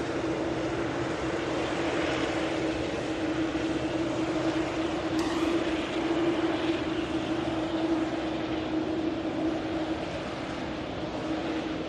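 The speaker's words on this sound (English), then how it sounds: "All standard protocol for the pushback operation on the 380." Airbus A380 on pushback at Manchester Airport, a continuous broad jet whine with a steady hum over distant airport rumble, fairly loud and unbroken throughout, no talk.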